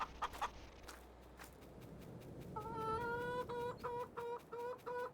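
Chickens clucking on a farm in the Farming Simulator 22 video game: after a quiet stretch with a few soft knocks, a run of repeated tonal clucks and calls starts and keeps going in short, evenly spaced bursts at moderate volume.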